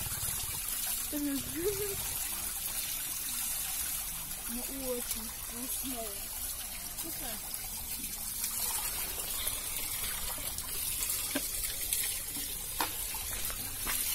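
Cold spring water trickles steadily close by in a park, running on under several people talking.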